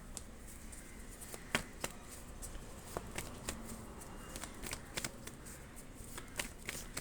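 Tarot cards shuffled by hand in a quiet room, a steady papery rustle broken by repeated crisp snaps and riffles at an uneven rhythm, close and fairly soft, with no talking.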